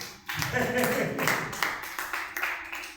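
Church congregation applauding in praise, a dense run of claps that holds steady for about three seconds, with voices calling out over it.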